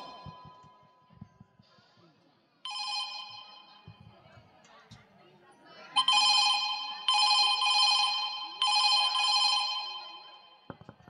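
A telephone rings in several bursts, first faintly and then in three loud, buzzing trills separated by short pauses, with low background noise between them.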